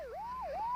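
Police siren from a Filipino comedy film scene, a loud rising-and-falling wail that dips and climbs twice in under a second, heard alone without speech.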